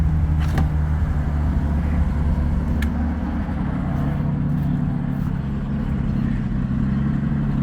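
An old Ford Bronco engine idles with the choke on, a steady, loud low rumble that holds throughout with a few faint clicks and clatters on top.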